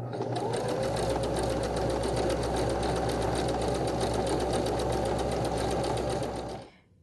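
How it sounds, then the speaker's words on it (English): Home sewing machine stitching fabric binding on a child's tank top romper, a steady close whirring drone of the needle that runs unbroken for several seconds, then stops. "I'm going to sew our other side together."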